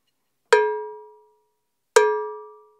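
A cowbell with electrical tape added to damp its ring is struck softly twice, about a second and a half apart, each clean metallic hit fading over under a second in a quiet room.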